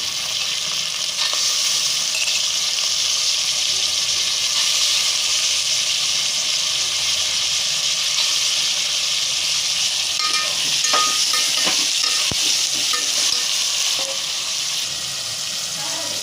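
Shravan ghevda beans cooking with water in a pan for rice: a continuous loud hiss and sizzle with occasional stirring scrapes near the end, close and unbroken throughout.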